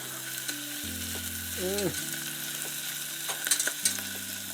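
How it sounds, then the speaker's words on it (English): Onions sauté in a pan over medium-high heat while making Japanese curry, a steady close sizzle with a few brief stirring scrapes and clicks, and no voices. "and our onions on medium-high heat. Want to give that a good saute."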